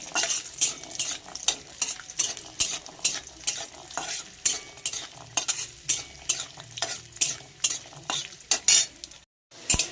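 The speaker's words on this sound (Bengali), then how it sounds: "সর্ষের তেলের মধ্যে আমি এবার রসুনগুলো ফ্রাই করে দেবো" Garlic frying in hot mustard oil while being stirred, with steady close sizzling broken by repeated scraping strokes of a spoon against the pan, no voices present.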